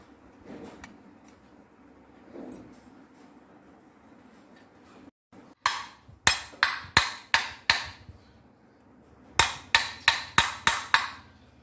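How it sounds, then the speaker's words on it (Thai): Two quick series of sharp metallic hammer strikes, about six blows each in a steady rhythm, separated by a pause, driving a bearing into a grass trimmer's clutch housing; a few softer knocks come before them. "ตอกให้เสมอกันนะครับแล้วอัดจะได้เข้าง่าย"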